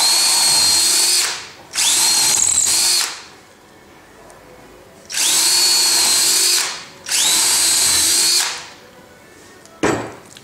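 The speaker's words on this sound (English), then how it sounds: "any timber that gets stuck in the drill bit." A power drill bores holes through timber in a mitre box setup, whining loudly in four sustained bursts separated by short pauses, with a brief final start at the end; no talking.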